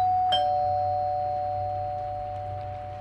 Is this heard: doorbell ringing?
yes